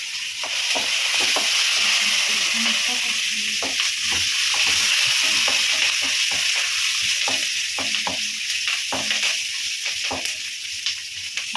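Curry leaves and chillies sizzle loudly in hot tempering oil, a steady bright crackling hiss punctuated by frequent stirring clicks, close and continuous throughout.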